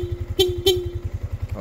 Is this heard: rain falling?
no